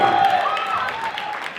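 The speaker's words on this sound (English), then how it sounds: "Clap your hands everyone." Audience clapping at a Beirut salsa festival awards night, a short burst of crowd applause with a voice speaking over it and a faint tonal sound underneath.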